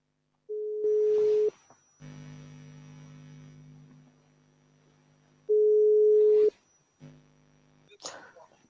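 Telephone line tones on a call being returned to a caller: two long steady beeps separated by a buzzing, multi-toned line signal, with brief clicks and rustles in between.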